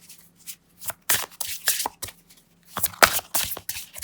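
Crisp, papery riffling of oracle cards being shuffled, in several quick bursts with short pauses between, close and fairly loud.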